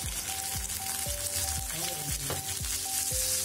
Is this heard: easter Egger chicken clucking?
no